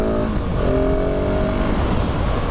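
A KTM 690 SMC R supermoto motorcycle revs hard for a wheelie on a track, its engine note climbing in steady harmonic sweeps, loud and close over constant wind and engine roar.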